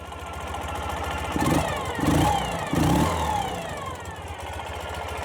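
A healthy 2012 Ural Gear Up 2WD sidecar motorcycle idles steadily and is revved three times in quick succession, then settles back to idle. The engine sits close and is heard without anyone talking.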